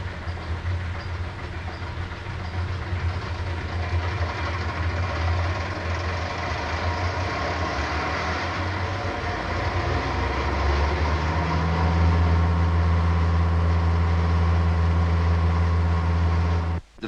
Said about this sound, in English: On the right of this machine, you can see a fuel injection pump under test.